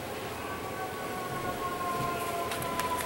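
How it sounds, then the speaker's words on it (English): Sirens wailing outside a home, a steady rising-and-falling tone running through the whole stretch under a noisy background, moderately loud and continuous with no talk over it. "And now we've got the sirens outside."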